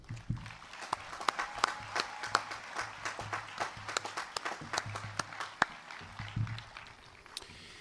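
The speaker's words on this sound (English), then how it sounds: "Please join me in a round of applause for Enumclaw's dedicated and hardworking staff." The audience at a 2021 Enumclaw high school graduation ceremony applauds the staff with scattered, uneven clapping. Distinct individual claps ring out over a low steady hum, at fairly low volume, with no speech.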